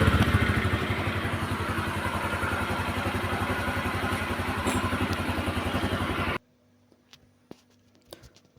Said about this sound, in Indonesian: Mati lagi ya, hidup sebentar langsung mati lagi, tidak harus stasioner ya.